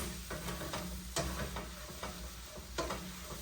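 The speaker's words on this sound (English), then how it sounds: "you're just going to stir that up so the eggs get cooked" Eggs and vegetables sizzle in a frying pan while being stirred for a stir-fry with rice, a steady crackling fry broken by a few scraping strokes, close and alone with no talk.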